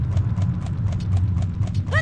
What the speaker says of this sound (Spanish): Ahora las pisadas. Se escuchan iguales.